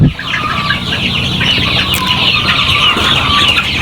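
Layer hens on a poultry farm cluck continuously, many birds overlapping in a dense, close chorus with a brief crow-like call rising from the flock.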